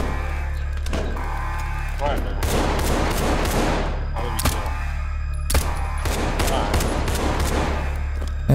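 Sniper and automatic gunfire in the video game SCP 5K, heard as rapid bursts of shots and sharp cracks over a steady low rumble, loud and continuous, with excited talking over the top.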